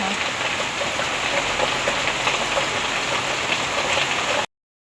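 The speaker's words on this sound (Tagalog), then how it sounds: "Ayan po at sobra po dito lakas ng ulan" A heavy downpour outside a shop makes a thick, even roar of raindrops striking surfaces, holding steady for about four seconds before cutting off abruptly.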